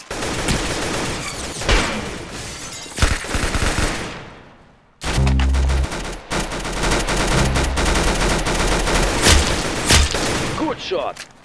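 Dense bursts of automatic and single gunfire from the online shooter game Arsenal, loud and continuous with a brief lull midway, heavy booming impacts after the gap.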